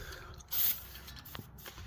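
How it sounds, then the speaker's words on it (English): A short burst of PB Blaster penetrant sprayed onto a starter drive on a John Deere, a single hiss lasting about a quarter second amid quiet shop background. "I'm going to spray this with a little bit PV Blaster penetrant."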